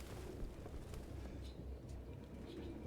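Pigeons coo softly in a grimy room in Detroit: Become Human, a few faint low calls under a dense, rumbling background.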